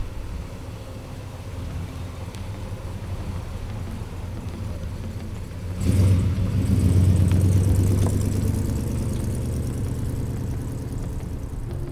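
A 1968 Chevrolet Chevelle Malibu Sport Coupe V8 idles with a steady low rumble, then swells louder midway as the car pulls away and the engine note carries on at a higher pitch.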